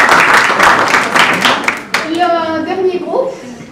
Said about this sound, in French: Et où est l'applaudissement pour ce groupe?